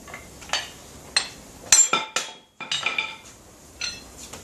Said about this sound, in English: Give it a couple of good taps to make a nice clear mark.